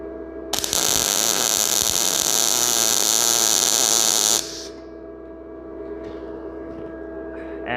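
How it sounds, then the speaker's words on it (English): A Tooliom TL-200M budget MIG welder lays a first weld, a loud, steady buzzing crackle that starts abruptly, holds for about four seconds, then cuts off to a lower lingering hum. "here we go for the first weld with the Tooliom"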